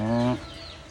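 A chicken gives one short, loud, close cluck, and a hum of background noise lingers after it.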